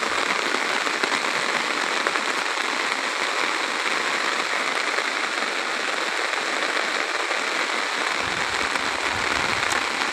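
Rain falling on the Baranai River at Naldanga, Natore, a steady, dense hiss of drops on water, loud and continuous throughout, with no voices.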